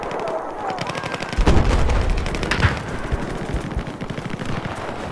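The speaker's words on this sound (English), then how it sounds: "Who was shooting, but it's our pubby trying to shoot down the transport helo with his" Battlefield 4 gunfire aimed at a transport helicopter, rapid automatic bursts of loud cracking shots that cluster densely through the middle and keep rattling on to the end.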